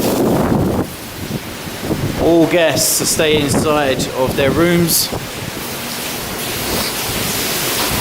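Hurricane Irma's winds roar against Disney's Port Orleans Riverside resort, a loud steady rush that opens alone before a voice speaks over it, the windy hiss continuing underneath throughout.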